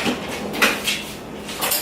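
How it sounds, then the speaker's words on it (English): Kitchen clatter while fetching a spoon: a cupboard or drawer opens, then cutlery and dishes clink in a few close, bright knocks and rattles. The sounds come alone, with no talking. "Let me get a spoon."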